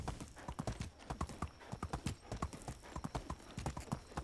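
Horse hooves clip-clop in Medieval Dynasty as an overloaded horse plods along, a steady rhythmic run of close, moderately loud hoofbeats alone, with no talk.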